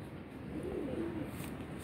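A pigeon coos softly, a low, muffled burbling call heard faintly at a distance in a quiet spot where young pigeons are kept.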